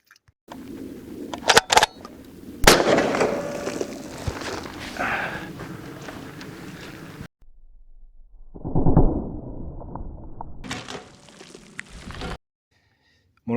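A 12-gauge shotgun slug is fired outdoors through an ammunition box at a bottle behind it: a couple of sharp, loud blasts early on, then quieter rustling and handling noise.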